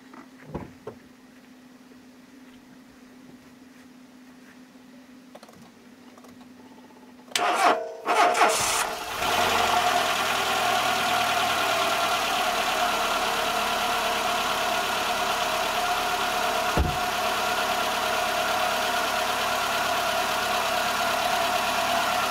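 A Renault Logan with a 1.6 8-valve engine cranks briefly on a portable jump starter, catches and settles into a steady, loud idle that runs alone without talk.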